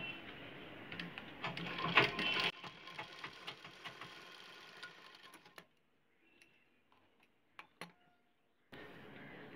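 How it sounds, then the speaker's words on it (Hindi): A sewing machine stitches the pleat of narrow palazzo pants, giving bursts of close, rapid ticking needle chatter that stop for a few seconds with scattered clicks before the stitching starts again. "अब हमें प्लीट में मारनी है सिलाई।"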